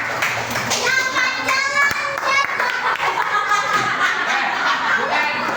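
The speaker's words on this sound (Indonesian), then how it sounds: "beri tepuk tangan untuk kelompok nasi goreng" A class of children applauds a group presenting in a computing lesson, with steady clapping mixed with chatter and giggles that runs through the whole stretch.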